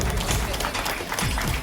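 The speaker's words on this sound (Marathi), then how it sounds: "टाळ्या झाल्या पाहिजे." A crowd applauds at the prize-giving ceremony of the 2025 Marleshwar sports festival after a children's potato race placing is announced, with dense, steady clapping throughout and a voice speaking over it.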